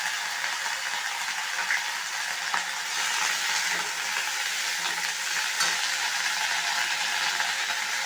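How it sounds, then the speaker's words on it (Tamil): Curry leaves crackling and frying in oil with golden-browned ginger garlic paste for village-style curry leaf rice, a steady dense sizzle running throughout, close and fairly loud with no talking. "இந்த சுத்தம் பண்ணி வச்ச கருவேப்பிலையை அதில் சேர்த்துருங்க."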